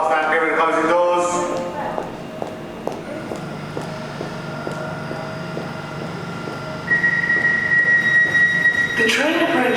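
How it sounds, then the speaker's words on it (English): An Elizabeth line Class 345 train pulls away from the platform, with rhythmic wheel clicks over rail joints and a rising electric motor whine. Station announcement voices sound at the start and end. "let's now go on a Elizabeth line train, the Class 345, to our next stop,"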